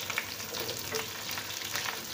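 Sliced onions frying in oil with cumin and mustard seeds for poha, a soft, continuous sizzle with light crackles, faint and steady, no voices.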